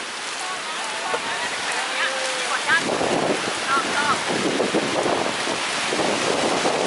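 Storm wind at Doi Sa Ngo whips through bamboo leaves in a steady, loud, broadband roar with gusty surges and rustling, the noise swelling after a calmer opening.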